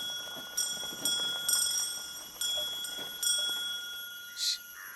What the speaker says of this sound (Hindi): घंटी ऐसे बजा रहा है जैसे अपनी माँ की अंतिम यात्रा पर जा रहा है